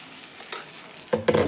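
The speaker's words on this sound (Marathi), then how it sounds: "परीसाठी आप्पे बनवायचे चालू आहे" Appe cooking with onion in a pan, a soft sizzle and light scraping stir, with a louder clink and sizzle near the end.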